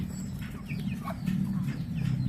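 Chickens clucking on a farm on a rainy morning, a few soft, close clucks and short calls over a steady low background rumble.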